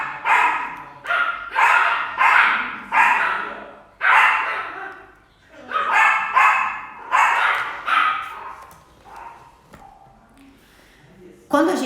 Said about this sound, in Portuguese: vamos dar um tempinho para os nossos cachorros, né? Porque eles também querem conversar